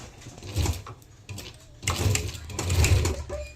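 A sewing machine stitches kurta fabric in short, uneven runs of whirring, growing louder in the second half, with a brief lull between bursts.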